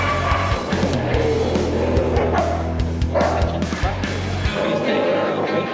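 Several dogs bark and yip continuously, loud and close, during protection bitework training, with a low mechanical hum underneath and occasional voices mixed in.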